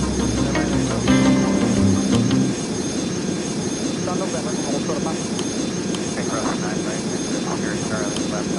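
Airliner in the flight game Airline Commander, with a steady broad engine roar sustained throughout, louder at the start, and radio-style talk over it.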